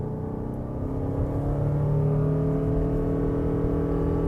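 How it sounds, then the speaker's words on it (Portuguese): The combustion engine of a Lexus RX 450h+ plug-in hybrid starts and pulls away, a steady low hum that swells and rises gradually in pitch as the car accelerates. "já ligou o motor a combustão saindo"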